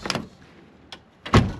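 A door on a 1973 Chevrolet Blazer is swung open and then shut, giving a short creak and latch click followed by a louder closing thud, close by.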